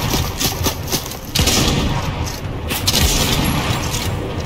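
Sniper gunfire in Fortnite, with a couple of sharp cracking shots cutting through a dense, noisy game soundscape.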